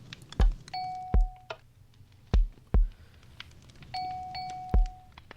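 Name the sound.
Minecraft note block bell sound, video game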